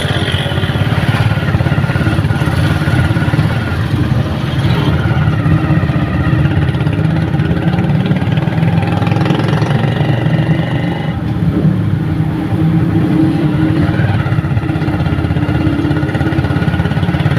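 A motorcycle engine hums steadily throughout while riding, a continuous mid-level drone with slight shifts in pitch and no voices.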